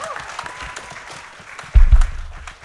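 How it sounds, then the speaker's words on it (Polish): Crowd applause at a youth religious gathering, starting as scattered clapping under faint background murmur, then swelling into a louder, fuller burst of clapping that tapers off near the end. "Brawa dla niego."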